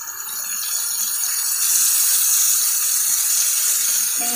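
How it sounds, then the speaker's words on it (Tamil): Tamarind water for an ennai kathrikkai kuzhambu being poured into a pan, a steady hissing splash of liquid that holds for several seconds with no talk. "இப்போ பாருங்கள், புளி தண்ணி ஊற்றிடுங்க."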